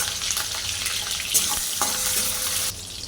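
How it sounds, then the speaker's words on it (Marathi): Green chillies crackle and sizzle steadily in hot oil in a pan for sabudana khichdi, a continuous close frying hiss with a few brief stirring clicks and no talk. "तेल गरम झाले आता ह्यामध्ये घालूया मिरची मिरची चांगली भाजून घेऊया व्यवस्थित"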